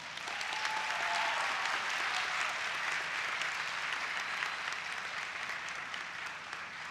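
Audience at a college student academic excellence awards ceremony applauding the students, a broad, sustained roar of clapping from a large crowd that holds steady for several seconds, moderately distant in the hall.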